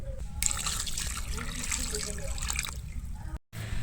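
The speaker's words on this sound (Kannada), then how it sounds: "ಗಿಡಕ್ಕೆ ನೀರು ಹಾಕಾಯ್ತು" Water splashing and trickling steadily onto potted plants in a sunny spot at the front of a house, continuous and fairly close, with broadband wash throughout and a brief dropout near the end.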